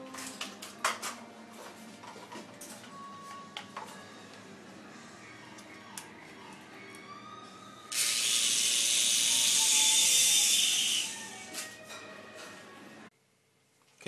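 A repaired picooZ Sidewinder micro helicopter powers up with a loud, steady high-pitched motor whine that holds for a few seconds and then cuts out, after scattered clicks and small handling noises from its plastic cogs and body.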